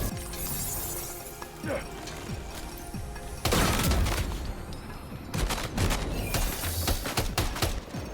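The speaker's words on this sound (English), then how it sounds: "Machine gun. Not super effective." Machine gun fire in a Death Stranding 2 combat encounter, with loud rapid bursts and crashing impacts filling the second half after quieter movement and clatter.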